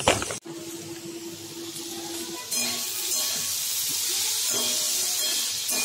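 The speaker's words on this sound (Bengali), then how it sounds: "তো এখন কালো জিরে আর কাঁচা লঙ্কা দিয়ে আমি আলুটা ভাজছি" Potatoes frying in hot oil with black cumin and green chilli give a steady close sizzle and hiss that gets louder after a sharp opening clatter, with faint stirring scrapes.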